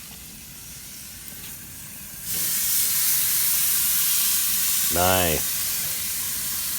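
A galbi steak hits a raging-hot gas grill, and a loud, steady sizzling hiss starts a couple of seconds in and holds to the end, with one short spoken word partway through.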